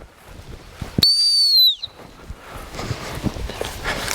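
One sharp, piercing gun dog training whistle blast lasting about half a second, trailing off, with footsteps and faint outdoor rustling before and after.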